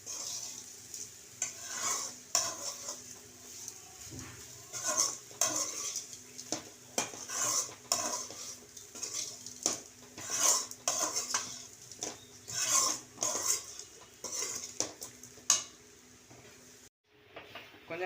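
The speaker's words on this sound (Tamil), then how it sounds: "இப்போ அதை நல்லா கிளறி விட்டுக்கணும்." A spoon scrapes and stirs grated coconut through raw banana curry in a pan, with steady rhythmic strokes and clinks of metal against the pan over a soft sizzle, close and moderately loud throughout.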